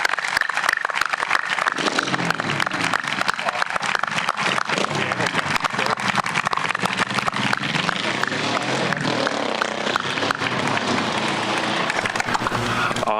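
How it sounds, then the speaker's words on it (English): A crowd at an Out of the Darkness Walk event claps for a group of speakers, a dense, steady wash of applause lasting several seconds with some voices mixed in. "Everyone give a round of applause for all of our speakers."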